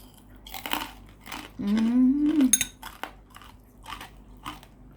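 Crispy Thai pork rinds (khaep mu) being bitten and chewed close up, several sharp crunches followed by steady chewing, with a brief hummed vocal sound in the middle.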